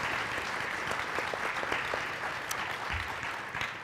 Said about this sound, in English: I'd like to give them a warm round of applause as we wrap up our last panel for today